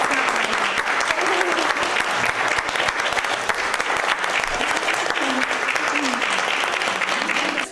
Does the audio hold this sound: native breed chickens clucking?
no